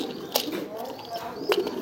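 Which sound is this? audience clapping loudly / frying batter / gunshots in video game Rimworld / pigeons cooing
pigeons cooing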